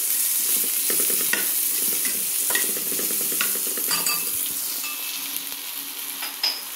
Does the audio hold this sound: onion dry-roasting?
yes